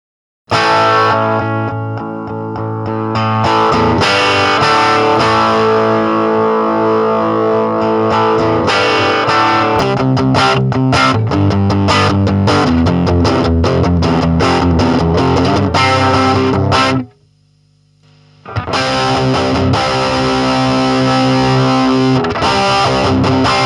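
A distorted electric guitar plays loud, driven riffs and chords through a Marshall DSL-1 combo amp on the classic gain channel, with a short pause near the end before playing resumes.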